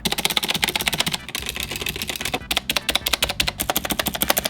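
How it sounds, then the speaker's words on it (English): Rapid clacking of keys on a mechanical keyboard with its stock stabilizers, dense and steady with brief pauses, some strokes carrying a loose rattly edge from the stabilizers. "I wanted to use the stabilizers that came with the board, but they sound really bad"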